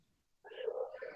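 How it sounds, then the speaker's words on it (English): A pet cat lets out a faint, drawn-out meow in the background of an indoor room, one brief warbling call after a moment of near silence. "Excuse the strange alien noise in the background. That's my cat."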